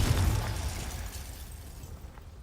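An explosion from the Confringo spell in Hogwarts Legacy opens with a loud, dense burst and rumbles on as a broad, decaying roar that fades over about two seconds.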